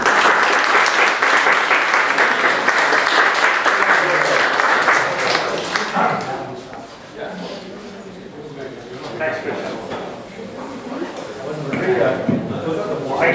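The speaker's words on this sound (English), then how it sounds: "big applause for our 4 panelists" An audience applauds the four panelists at a seed and angel investment event, a dense, loud wave of clapping that gradually thins out, with voices and room chatter rising as it tapers off.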